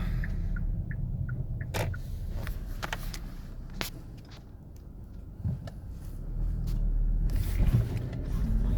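A 2019 Hyundai Tucson 1.6 T-GDI N Line 4x4 with a jerking fault under acceleration, heard from inside as a quiet low engine and road drone with scattered clicks and knocks, swelling toward the end.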